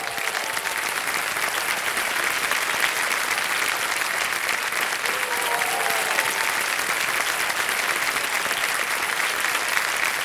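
A KBC Season 14 studio audience applauds steadily and loudly for the full length, a dense unbroken wash of clapping with no talk over it.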